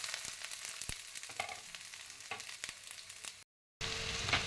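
Onions sizzle steadily in hot oil in a pan, crackling with sharp pops, then cut off briefly before the frying resumes; no speech is heard.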